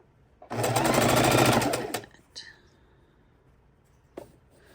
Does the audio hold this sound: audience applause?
no